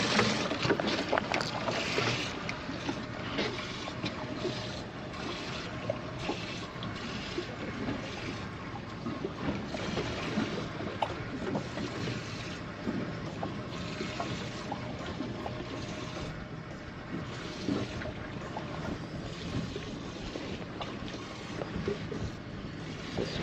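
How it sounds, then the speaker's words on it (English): Wind gusts across a fishing boat at sea off California, a steady loud rushing with some water slapping against the hull, and nobody speaks. "This wind is picking up."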